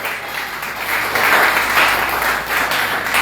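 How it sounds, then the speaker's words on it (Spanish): A church congregation at a Sunday service claps together for the Lord, a dense, steady wash of many hands that swells slightly and holds at a fairly loud level with no talking. "No sé cuánto le dan palmas al Señor"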